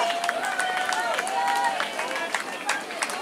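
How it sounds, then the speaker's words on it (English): Spectators clapping and cheering along the course of the Frenchay 10k road race, a continuous patter of applause under the steady voice of an announcer calling out runners' names. "Lots of applause."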